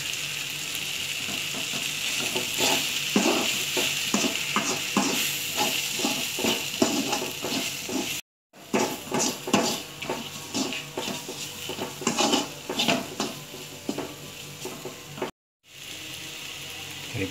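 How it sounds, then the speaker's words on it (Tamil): Masala for radish sambar is stirred in a hot pan, giving a continuous sizzle with repeated scraping strokes and two brief breaks, close and alone. "இப்போ நம்ம இதை வந்து நல்லா கிளறி விட்டுக்கலாம்"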